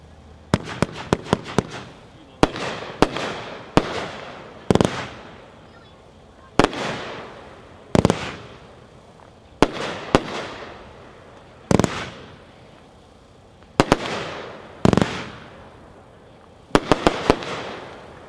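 A Walk the Plank 22-shot firework cake from Magnus Fireworks fires a series of sharp, loud launch bangs at uneven intervals, some in quick clusters, each trailing off into crackle and echo outdoors.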